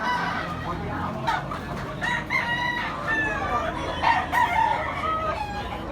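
Bulik yellow-legged stags crowing repeatedly on a gamefowl farm in Tabunok, Cebu, several close, loud calls overlapping one another with clucking between them, and a voice briefly audible underneath.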